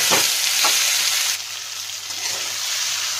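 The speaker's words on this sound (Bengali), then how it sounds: "দিয়ে এবার মশলাগুলোকে একটু কষিয়ে নেব।" Spices sizzle and fry in a pan for a Bengali fish head curry, a steady close hiss with a couple of soft stirring scrapes near the start and no talking.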